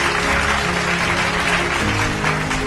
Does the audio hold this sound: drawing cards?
no